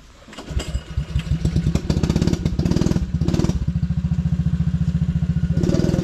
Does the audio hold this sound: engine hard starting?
yes